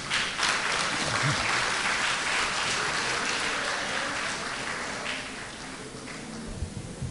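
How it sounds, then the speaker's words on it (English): A lusty round of applause from the audience at a monthly meeting of a retired persons' association, dense sustained clapping filling the room, steady and fairly loud before slowly thinning toward the end. "You bring on or cheer with a lusty round of applause."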